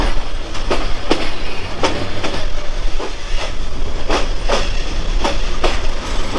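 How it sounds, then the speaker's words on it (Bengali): The Lalmoni Express crossing the new Jamuna rail bridge gives a loud, continuous rumble inside the train, with regular rhythmic clickety-clack wheel beats throughout. "প্রথমবারের মতো আজকে যমুনা রেল সেতু, যেটা নতুন উদ্বোধন হয়েছে, সেটা দিয়েই কিন্তু যাচ্ছি"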